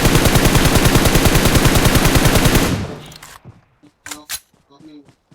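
Rapid automatic gunfire in the video game PUBG, a dense loud burst of shots lasting nearly three seconds before cutting off, followed by a few scattered quieter clicks and thuds, with voices around it.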